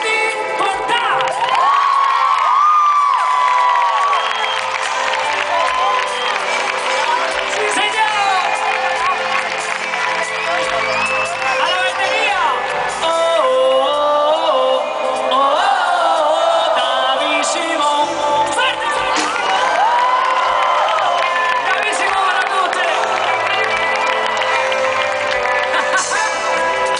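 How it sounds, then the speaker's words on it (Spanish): An arena audience at a concert in Palau Sant Jordi, Barcelona, cheers, whoops and applauds in a loud, sustained roar, with shouts rising and falling and a voice booming over a PA. "fuerte el aplauso de la tierra de vuestra tierra"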